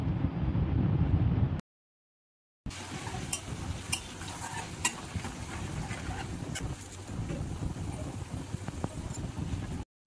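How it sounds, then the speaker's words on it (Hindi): Ground masala frying in oil in a kadai while an aloo parwal korma is cooked, giving a steady close sizzle with stirring scrapes, broken by a brief silent gap near the start. "तापर कढ़ई आउ टिके तेल दे देली तापर जेन बाटी थी बटा मसला ताके दे देली"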